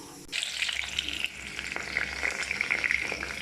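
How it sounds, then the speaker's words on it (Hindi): Onions frying in mustard oil for mutton haleem, a steady close sizzle and crackle of hot oil that holds throughout, with no voices. "सरसों के तेल में आप प्याज को ब्राउन तक पका लीजिए"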